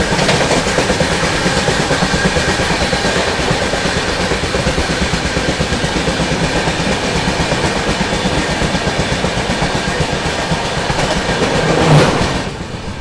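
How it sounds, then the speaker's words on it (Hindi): The Gondia–Kolhapur Maharashtra Express rushes past close by, a loud, sustained roar of wheels with continuous clickety-clack rhythm over rail joints for about thirteen seconds, easing slightly at the end. "गोंदिया कोल्हापुर महाराष्ट्र एक्सप्रेस।"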